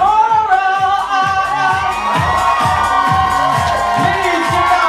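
A crowd at a drag show cheers, whoops and shouts for a drag performer as a steady roar, with music playing underneath and no clear individual voices speaking.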